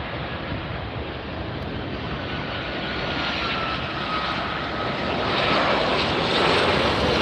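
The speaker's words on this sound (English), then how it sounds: "This is an American Airlines flight." An American Airlines airliner flies near LAX, its broad jet roar steady and fairly loud throughout, swelling slightly toward the end with no talk over it.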